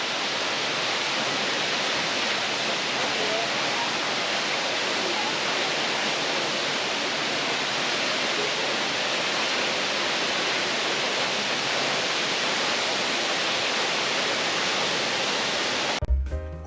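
A continuous close roar of Horsetail Falls plunging over a basalt cliff on Horsetail Creek, Columbia River Gorge, holding an even, full wash of water noise with no voices until a short bump at the end.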